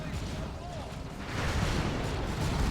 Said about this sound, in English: And it's gone for the assault cannon.